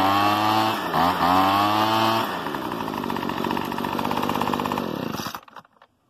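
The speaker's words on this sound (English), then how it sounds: "I can't run a leaf blower late at night. Yeah. But hey, one last rev." A gas leaf blower engine revs hard and loud close by, its pitch dropping and wavering before cutting off abruptly into silence.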